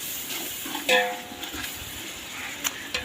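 Mutton biryani masala is stirred in a pot with a metal spoon: a soft sizzle runs beneath scraping strokes, one ringing metallic clang early on, and a few lighter clinks and knocks later.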